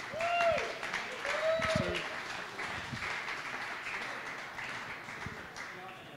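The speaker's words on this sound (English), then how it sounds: "give Josh DeLucia a round of applause" Audience applause for a speaker at a Sparks talk evening, scattered claps and crowd noise close up at first, then thinning and fading over a few seconds.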